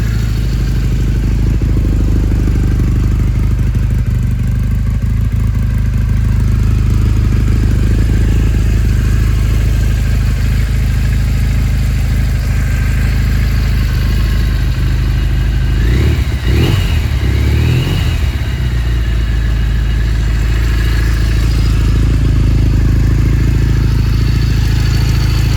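Cold 2001 Triumph Bonneville motorcycle engine idling with the choke pushed in, a loud, steady, close rumbling idle with a brief revving surge midway.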